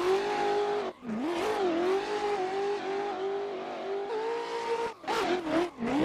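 A BMW M4 drift car in a racing video game revs hard and holds a high, wavering engine howl, dropping off briefly twice as the throttle lifts and snaps back, loud and close.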